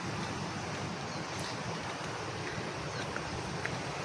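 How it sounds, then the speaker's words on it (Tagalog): A river near a dam swollen after heavy rain roars as a steady, broadband rush of water, heard from nearby and fairly quiet, with no voices over it. "Ayan, naririnig nyo po yung hagulgul ng ilog."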